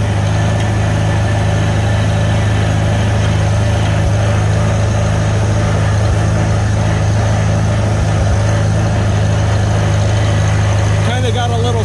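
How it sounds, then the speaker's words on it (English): International Super C tractor engine running steadily with a slight sputter from a fuel or carburetor fault, a loud continuous low drone filling the whole stretch, with someone speaking over it. "Kind of got a little sputter in it."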